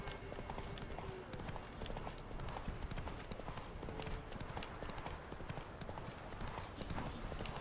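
Roach the horse galloping in the video game Witcher 3, a rapid, continuous rhythm of hoofbeats, close and steady, with faint voices underneath.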